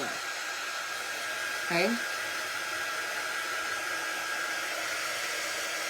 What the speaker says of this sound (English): This dryer does not get hot enough to melt my ink mat that's inside this pillow.